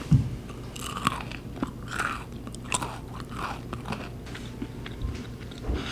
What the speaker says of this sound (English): Should I do an ASMR bite for you guys?